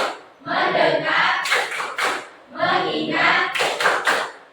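An Indonesian Catholic religious education class does the rhythmic 'tepuk fokus' clapping routine, with voices chanting in unison and sharp clusters of claps in two repeated patterned phrases.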